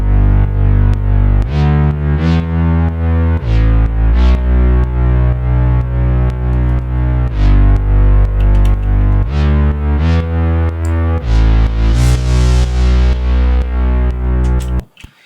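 Synth bassline recreating a track, processed with a chorus effect: a loud, continuous, distorted bass riff with steady rhythmic note changes and wide shimmering harmonics, playing alone throughout before cutting off at the end.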